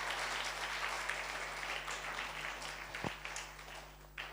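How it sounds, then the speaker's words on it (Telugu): A church congregation applauds loudly during a Sunday worship service. The clapping is a steady, continuous wash of sound with a few sharper claps standing out near the end. "అందరు గట్టిగా చప్పట్లు కొడుతూ దేవుని మహిమపడదాం"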